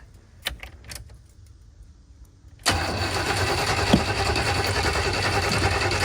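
A camper van engine cranks and catches, after a few clicks and rattles of keys, then settles into a loud, steady running rumble close by.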